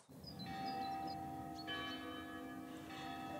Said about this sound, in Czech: Za zvuku zvonů